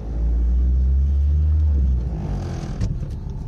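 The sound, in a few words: car engine running noisily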